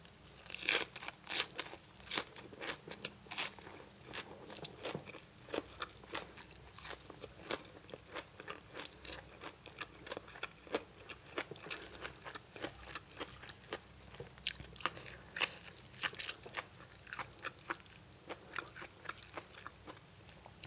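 Close, quiet eating of spicy Thai papaya salad with fermented fish, fresh live shrimp, crispy pork rinds and cha-om, with repeated crisp crunching bites and steady chewing throughout, no talk.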